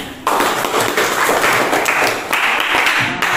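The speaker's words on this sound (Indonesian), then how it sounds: "Kita tepuk tangan dulu kembali." Classroom applause from a group of students during a lesson, a dense steady patter of many hands clapping together that starts abruptly and carries on loudly throughout.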